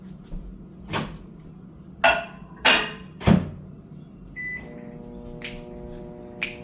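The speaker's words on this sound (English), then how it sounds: "Let me put these in the microwave." A kitchen microwave oven is loaded with cold noodles for reheating: several sharp door and latch clunks and button beeps, then a steady low hum as it starts running, ending with another beep.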